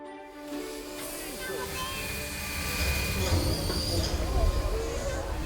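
Old steam locomotives leaving their depot, with a steady hiss of steam and rumbling rail noise that swells slightly louder toward the end, heard continuously and fairly close without speech.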